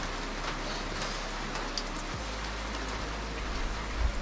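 Heavy rain falls steadily in Kodaikanal, a dense continuous wash of drops hitting surfaces nearby, with a low steady rumble underneath and no voices.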